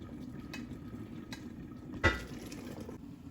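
Spicy gizzard sauce cooking in a pot, a low steady simmering bubble that stays faint and continuous, broken once by a brief louder clink or stir partway through.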